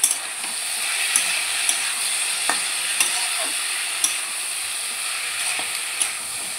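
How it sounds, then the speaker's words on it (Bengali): Chicken pieces with onion, garlic, ginger and capsicum stir-frying in oil, a steady close hiss of sizzling with light periodic scrapes and taps of a spatula. "বেশ কিছুক্ষণ নেড়ে চেড়ে ভেজে নিয়েছি"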